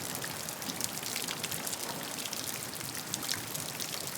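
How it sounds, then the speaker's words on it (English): Soft rain falls steadily, a fine close patter of drops on a surface with a faint trickling undertone, quiet and unbroken. "The rain continues to fall softly in the background"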